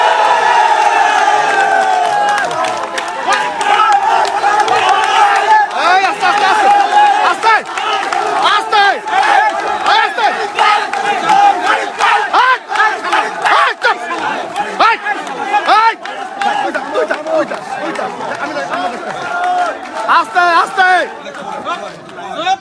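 A large crowd at a college election vote count in Barisal shouts and chants in loud, continuous waves of voices and cheering, dense and close throughout.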